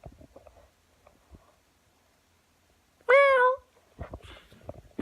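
A house cat lets out one loud, close meow with a rising-then-falling pitch, set between quiet stretches of faint indoor movement and low background voices.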